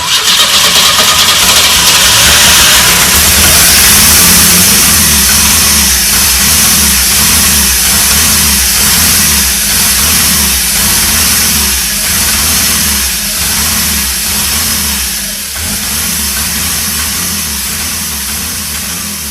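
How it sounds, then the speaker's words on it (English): A 1984 Pontiac Fiero engine starts after sitting for 30 years and runs continuously, a loud, steady mechanical roar with a rhythmic pulsing idle that eases slightly toward the end. "We got the car running for the first time in over 30 years"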